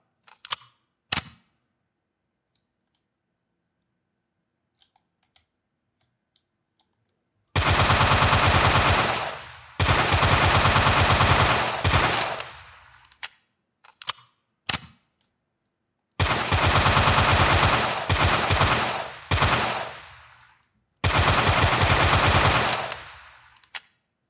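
Automatic weapon fire in a Unity shooter game demo comes in three long, loud sustained bursts of rapid shots, separated by silences with only a few scattered single clicks and short pops.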